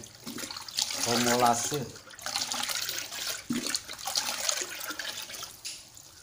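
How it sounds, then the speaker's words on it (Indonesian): Nitrobacter liquid culture mixed with molasses gets stirred, giving sloshing, swirling liquid sounds in surges with brief pauses, close by. "Kita aduk lagi sampai benar-benar merata antara cairan nitrobakter dengan molase."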